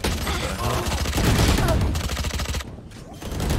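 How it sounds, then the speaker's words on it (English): Dense, rapid gunfire from several weapons in the Valorant shooter game, loud and continuous bursts overlapping throughout, briefly thinning near the end before picking up again. "I'm being shot from all sides."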